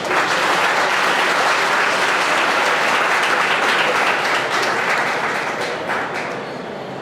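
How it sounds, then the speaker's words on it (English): An audience claps in sustained, dense applause to welcome Tim Robinson at a hospital announcement event, loud and steady throughout before easing slightly near the end. "Let's give a big round of applause for Tim Robinson"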